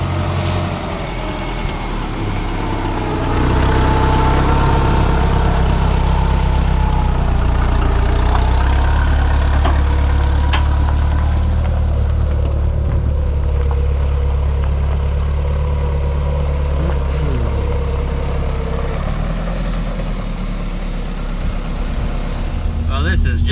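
An old gas tractor engine idles with a steady low rumble and faint knocking throughout, close and continuous, after a short quieter start.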